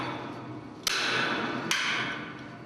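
Hammer blows on bolts while a tower crane mast is dismantled: two sharp metallic strikes about a second apart, each ringing briefly before fading, over a low background rumble.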